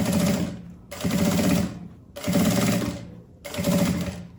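A sewing machine stitches a quilted matelassê puffer tote bag in four loud, close, steady bursts, each about a second long, with brief pauses between them.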